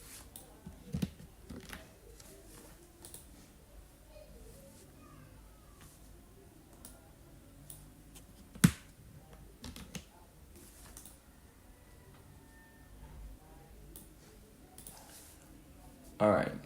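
A computer keyboard is typed on in short, scattered bursts of soft clicks, faint and close, with a few louder taps and long quiet gaps between them.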